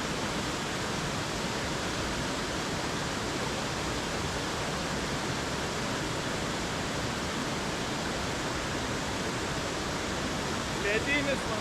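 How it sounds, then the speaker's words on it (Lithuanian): Water flows steadily in a cave stream, a dense, even rushing wash that stays constant and moderately loud throughout with no breaks. "Lendam į vandenį."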